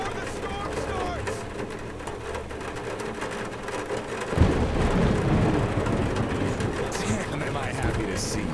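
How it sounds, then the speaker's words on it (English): A thunderstorm in the game Metro Exodus: steady heavy rain patters throughout while a deep thunder rumble rolls in midway and swells, close and loud, with no talking. "Better get inside before the storm starts."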